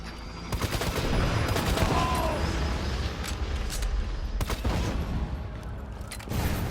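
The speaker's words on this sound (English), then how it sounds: "Seems like I only do burst fire while I'm aiming down sights." Gunfire from a Vladov sniper rifle in Borderlands firing in bursts amid a busy battle, with repeated sharp shots and booms over a constant roar of combat noise and no speech.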